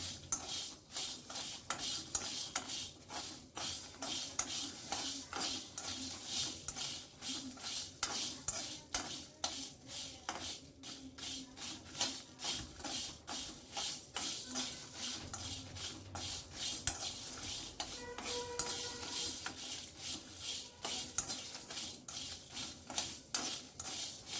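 Raw mango pickle spices are dry-roasted in a pan over a low gas flame, with a continuous run of rapid scraping and clinking stirring strokes over a soft sizzle.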